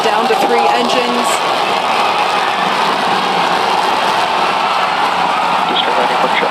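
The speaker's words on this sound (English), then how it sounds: "Booster now hovering as it aligns with the tower for catch." A loud, steady roar of a Starship rocket booster's engines as it hovers to land, broad and rumbling, with indistinct voices and crowd noise mixed underneath.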